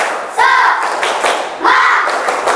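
A school class performs a rhythmic clapping chant, loud, close claps falling in short patterned bursts with voices chanting along between them.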